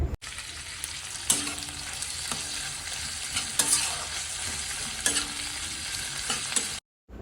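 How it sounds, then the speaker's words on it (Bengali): Plenty of onion frying in a pan for potol posto, a dense continuous sizzle broken by repeated scrapes and clatters of a spatula stirring, close and loud, cutting off briefly near the end. "এখানে পটল পোস্তর জন্য বেশ কিছুটা পেঁয়াজ ভেজে নিচ্ছি"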